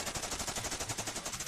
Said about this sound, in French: des coups de feu ont éclaté